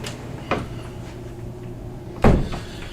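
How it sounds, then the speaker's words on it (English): An indoor door swings shut with a soft knock and then a louder, nearer thud, set against a steady hum of air-conditioning white noise. "I'm going to close a door"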